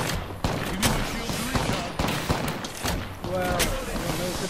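Apex Legends gunfight with bursts of rapid gunfire cracking repeatedly in quick succession, loud and close, mixed with other in-game effects and a brief electronic tone near the end.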